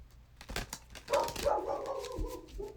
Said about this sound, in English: the dogs are outside barking